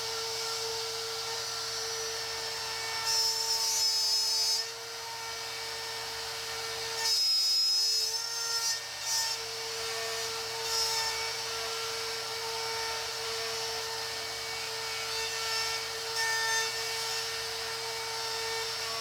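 A router cuts a hinge mortise through a Rockler JIG IT hinge mortising template, giving a steady, nearby motor drone with several louder bursts as the bit bites into the wood. No voices are heard.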